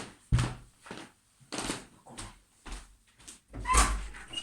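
A door handled several times indoors, a series of separate thumps, knocks and bangs spaced irregularly, one sharp slam near the start and another louder knock near the end.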